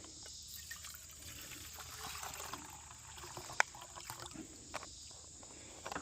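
Water poured over freeze-dried diced beef in a kitchen to rehydrate it, a faint continuous trickle and splash with a few small clinks, steady for several seconds with no talking.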